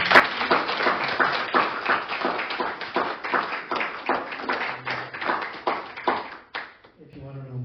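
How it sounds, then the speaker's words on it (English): Steady, close clapping from a modest audience at a poetry reading, a dense run of claps for about six and a half seconds that stops abruptly, after which a voice begins. "Another round of applause would be a pleasure."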